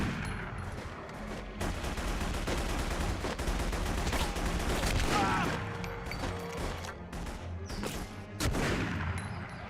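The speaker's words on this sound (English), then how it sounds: "Gunfire alerted the whole island by now?" Sustained rapid gunfire from The Punisher (2005) video game pours out in dense overlapping bursts and volleys, loud and continuous throughout, with sharper reports punctuating the barrage.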